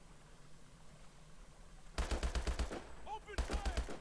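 Gunfire in Call of Duty Advanced Warfare erupts after a quiet stretch as two rapid automatic bursts of loud shots, with a brief vocal shout between them.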